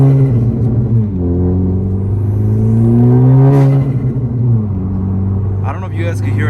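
A 10th gen Honda Civic Si fitted with an HKS blow-off valve holds a loud, close engine drone that climbs in pitch, then a short hissing release cuts in, with a fluttery burst near the end.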